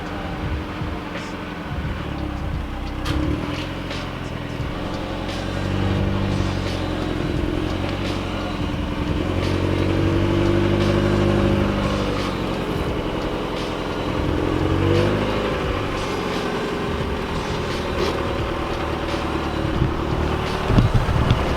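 A Mazda Miata engine running steadily nearby, a continuous low rumble that swells slightly in the middle with small fluctuations and faint background clatter throughout.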